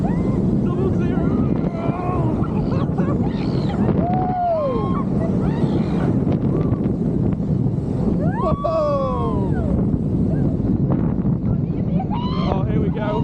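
Wind rushing past on the Iron Rattler roller coaster at Six Flags Qiddiya City, a steady loud roar across the whole ride with a rider's voice and faint screams over it.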